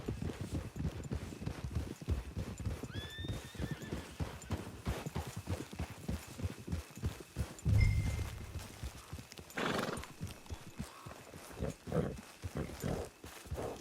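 Horse hooves clip-clop steadily on a path in the Red Dead Online video game, with a whinny and snort partway through and faint game ambience behind.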